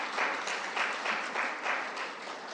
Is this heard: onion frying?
no